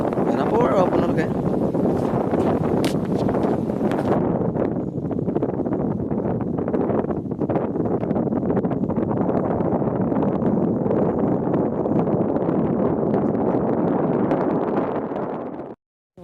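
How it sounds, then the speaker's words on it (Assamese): Strong wind buffets the microphone outdoors at Gunashuti by the Subansiri river in Lakhimpur, a continuous loud rumbling roar throughout, with someone talking over it. "ইমান বতাহ বলিছে নহয় মানে ভালকে কথাও ক'ব নোৱাৰি"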